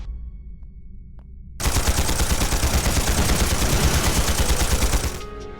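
Loud automatic gunfire in the video game Trails through Daybreak erupts after a quiet moment and rattles in a rapid, sustained burst for about three and a half seconds before easing off.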